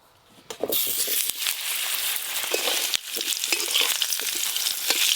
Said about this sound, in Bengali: আলুগুলো মাছের মতো লাল লাল করে ভেজে নেব